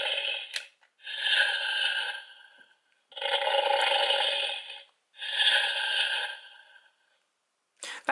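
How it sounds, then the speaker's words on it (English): A Gold Fury Blade Blaster dinosaur toy with its head flipped onto the Mosasaurus gives a breathy electronic snore, three long drawn snoring breaths in a slow even rhythm, close and moderately loud with short silent gaps between them. "Once in a while, when the head is flipped onto the Mosasaurus, it will actually snore"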